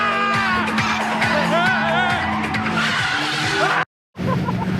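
Tires on a 2009 Honda Fit squeal and skid under hard braking on a race track, a loud wavering screech over engine noise, cut by a brief silence before the car noise resumes.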